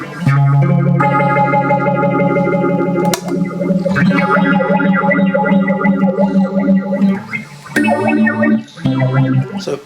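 Guitar run through a Mu-Tron Bi-Phase, phaser A feeding phaser B set less drastic; a string of loud, steadily swirling chords with a few short breaks between phrases.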